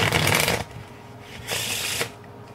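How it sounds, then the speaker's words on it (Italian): A deck of playing cards being shuffled in two crisp riffling bursts, the first longer and the second shorter, close and clear with a brief pause between and no talking. "Mischiare"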